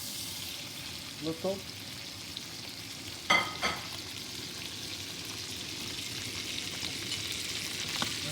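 Salmon fries skin-side down in a pan, a quiet steady sizzle with a few brief clicks and knocks, under faint speech.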